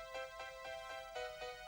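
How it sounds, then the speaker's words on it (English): Bright, sustained keyboard chords pulse in an even rhythm, a shimmering synth pad at moderate volume with no voices. "Starts off with quite a bit of keyboards."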